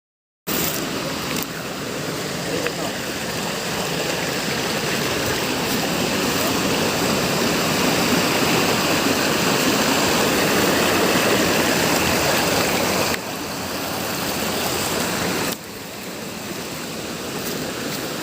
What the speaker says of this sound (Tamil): இப்போ பார்த்தீங்கன்னா இது ஃபுல்லாக ஆறு மேலே நீர்வீழ்ச்சிலாம் இருக்குது அருவியெல்லாம் இருக்குது